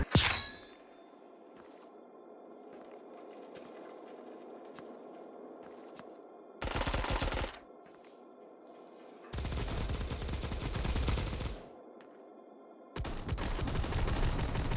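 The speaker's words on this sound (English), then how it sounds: "As I hear these gunshots, I am moving out towards that direction" Bursts of gunfire in the mobile shooter game Bullet Echo, three loud broadband volleys of rapid shots, roughly a second to two and a half seconds long, separated by quieter stretches of game ambience and faint clinks.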